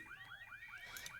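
A video game alarm repeats a rapid warbling siren, about five sweeping up-down cycles in quick succession. The tone is steady and fairly faint against a low background hum, with no voices.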